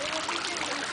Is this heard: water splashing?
yes